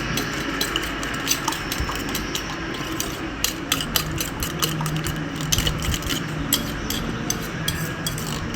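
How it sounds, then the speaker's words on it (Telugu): Eggs being whisked in a bowl give off fast, continuous clinking and scraping of a utensil against the bowl, steady and close throughout. "ఎగ్స్ వేసేసుకున్న తర్వాత బాగా మిక్స్ చేసుకోవాలి"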